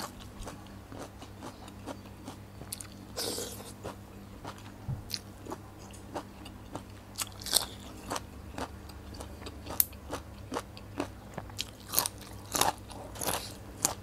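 Close, repeated crunching and biting from someone eating spicy Thai tam sabai nang salad with garlic, sharp bursts scattered irregularly over a low steady background hum, no talking.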